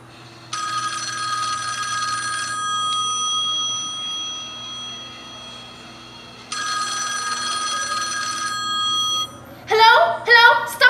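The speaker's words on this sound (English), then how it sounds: "that phone rings" An old-style telephone bell rings loudly in two long bursts with a pause between, followed by a voice speaking briefly.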